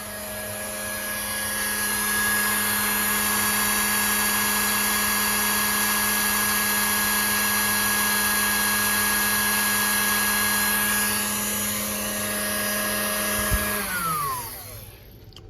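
A 1963 Kenmore floor buffer motor runs unloaded with a steady, loud electric whine and hum, holding constant for about thirteen seconds before being switched off and spinning down with a falling pitch.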